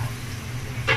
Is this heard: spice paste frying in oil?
yes